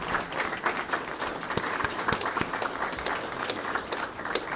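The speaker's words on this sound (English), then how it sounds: "how about a round of applause for Miss Pell" Applause at a press event welcoming Rich Rodriguez as Jacksonville State's new head football coach, honouring a woman asked to stand; a modest, fairly faint patter of clapping from a small crowd runs steadily throughout.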